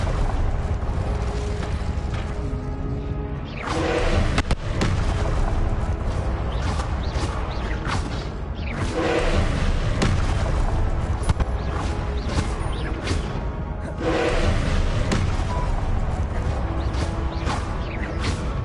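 Fire spells Confringo and Incendio cast in Hogwarts Legacy: loud, dense blasts and whooshing bursts recur every few seconds over a continuous roaring, mechanical game soundscape.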